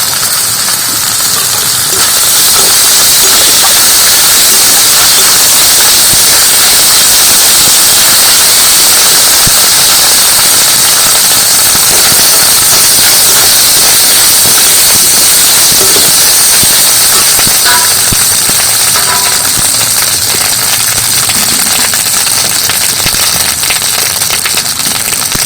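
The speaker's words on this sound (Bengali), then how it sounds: "কিছুটা আদা বাটা দিয়ে দিচ্ছি।" Ginger paste sizzles in hot oil in a pan for a mustard brinjal dish: a loud, steady, close hiss of frying that runs without a break for the whole stretch, with no talking.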